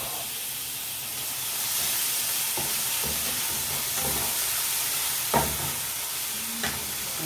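Onion and tomato sautéing in a pan, with a steady soft sizzle and hiss of frying and a few light clinks of a utensil stirring.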